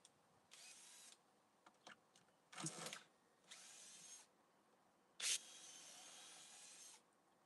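A power drill drives screws into split wood on deck stairs outdoors, with several separate whirring bursts of varying length, some short and some lasting over a second, against a quiet background.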